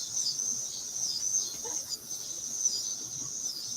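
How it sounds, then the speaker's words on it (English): Cicadas droning outdoors, a continuous high buzzing chorus holding steady throughout, with faint background noise underneath. "And listen to the cicadas."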